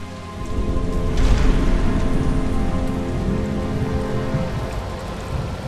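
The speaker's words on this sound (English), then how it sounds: "It's nice and atmospheric here with the weather, the rain" Steady heavy rain with distant rumbling thunder fills the stormy ambience of the video game Batman: Arkham Asylum, a constant wash with a brief swell near the start.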